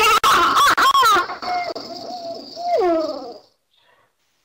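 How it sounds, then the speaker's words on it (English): A barred owl gives its classic call, a clear series of hoots rising and falling in pitch that ends in a drawn-out descending note, heard alone and fairly close. "There's its classic call"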